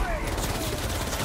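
Rapid gunfire in Marvel's Spider-Man 2 video game, a dense, continuous burst of shots with speech-like game audio mixed in under it.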